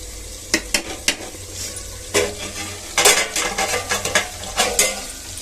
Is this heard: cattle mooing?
no